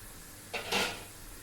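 Goat liver drops into a cooking pot with a brief soft splash and clatter lasting under half a second, otherwise quiet.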